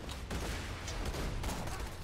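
Gunfire in the video game Borderlands 2 sounds as a dense, continuous barrage of rapid shots and bursts, loud and close, filling the whole stretch without pause.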